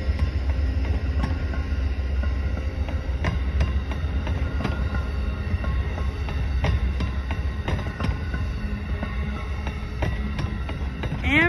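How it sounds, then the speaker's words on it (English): Northbound Amtrak Vermonter led by P42DC locomotive 89 passes at Greenfield, Massachusetts in January, a steady heavy rumble with rhythmic wheel clicks and a brief squeal near the end. "Amtrak 56 Vermonter operates from Washington, D.C. to St. Albans, Vermont."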